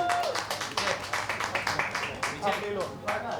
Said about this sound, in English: Huge round of applause, I think, first for Ananya